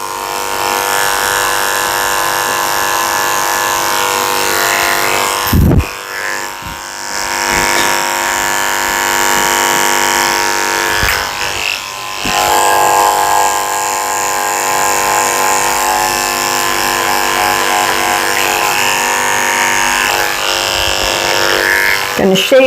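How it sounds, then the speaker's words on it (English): Electric dog clippers with a 10 blade shave a Shih Tzu during grooming, a steady close buzzing hum that runs continuously with a few brief breaks as the clipper stops and starts. "Going to use a 10-blade to shave out his potty area."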